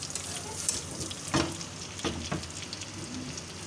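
Gola kebabs fry in hot oil with a continuous quiet sizzle and soft crackle, a few brief clinks and stirring bumps breaking through, no talk.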